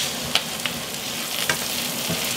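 Halved Brussels sprouts sauté in a pan with a steady sizzle, broken by a few sharp pops and light stirring scrapes, close and moderately quiet, no voices.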